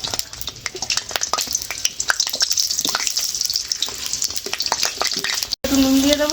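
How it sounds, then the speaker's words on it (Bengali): Potatoes sizzle loudly in hot oil in a kadai, a dense close crackle and spatter with stirring taps throughout, cut short near the end and followed by a brief different tonal sound. "তেলের মধ্যে আলু দিয়ে দিচ্ছি।"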